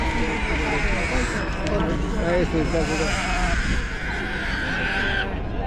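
Sheep bleat repeatedly in a busy South American setting, their wavering cries rising over crowd noise and a steady rumble. People talk close by throughout.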